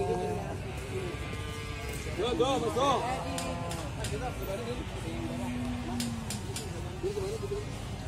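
A large cow moos loudly and close at a morning livestock market in Muntilan, Magelang, with a single drawn-out call over murmuring crowd noise and someone talking nearby.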